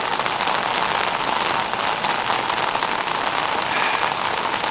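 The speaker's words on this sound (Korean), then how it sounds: "이것이 우중 캠핑이다." Heavy rain pouring on a campsite at a jungle valley campground, a dense, loud, constant patter and hiss with no voices.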